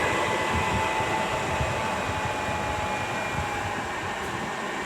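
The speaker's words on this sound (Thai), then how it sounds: "พัดลมทั้งสองตัวก็ ทำงานปกตินะฮะ" Two cooling fans inside a Sunchonglic 1000VA grid-tie inverter run steadily, a close continuous whir and airy hum with a faint tonal whine and no speech.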